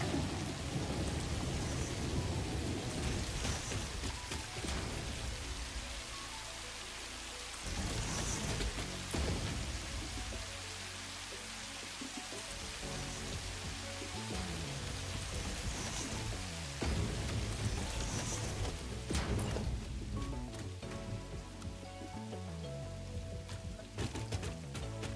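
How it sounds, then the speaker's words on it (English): Steady rain pours down in a video game, a dense continuous hiss with occasional low rumbles of thunder, holding at an even loudness throughout with no talking. "Is that the sound of the rain stopping?"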